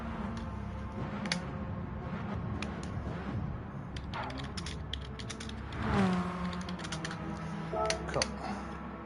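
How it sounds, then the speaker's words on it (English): Computer keyboard typing taps out in irregular bursts of light clicks, faint and close, mixed with creaks and scattered mechanical clatter under a low background hum. "Sorry, I'm just typing here, Doug."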